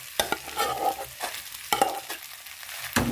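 Mukimo being stirred and mixed in a pot with githeri added, a Kenyan mashed dish; scraping spoon strokes come in a few bursts with short pauses, close and moderately loud, no talking.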